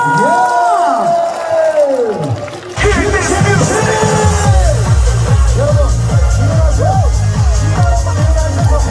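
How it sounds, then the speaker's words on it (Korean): Festival crowd at a trot show during the Geumsan World Ginseng Festival whoops and cheers loudly, then a pounding trot medley backing track kicks in beneath the continuing crowd noise. "다시 한번 박수 함성!"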